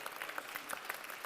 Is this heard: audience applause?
yes